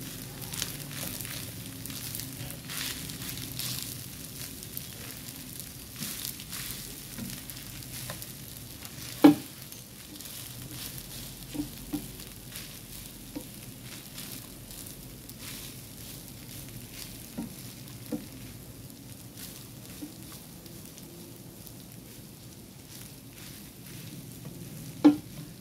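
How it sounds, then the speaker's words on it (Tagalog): Leftover rice is made into fried rice with salt and oyster sauce, stirred in a pan over a long, faint, continuous sizzle. A few sharp spatula knocks against the pan land at scattered moments. "Mix natin ngayon."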